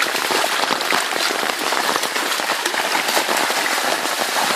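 Rain pours over a village in Punjab, a dense, steady hiss of drops on surfaces that stays close and even throughout, with no voices.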